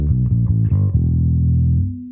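Clean-toned electric bass played through a Neural DSP Quad Cortex: a quick run of plucked notes, then one low note left ringing and sustaining before it is cut off, clear and alone.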